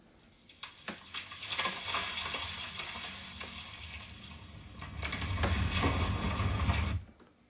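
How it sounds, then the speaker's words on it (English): An AI-generated cinematic sound of a medium tree falling with leaves rustling: a dense crackling, rustling texture builds, surges again near the end, then cuts off abruptly. "I wanted a cinematic sound of a medium tree falling into vision and leaves rustling."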